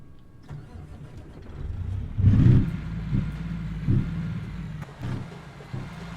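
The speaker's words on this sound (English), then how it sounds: "This truck sounds weird, man." A truck engine in American Truck Simulator rumbles and revs in uneven surges, a low mechanical growl swelling and easing with no voices.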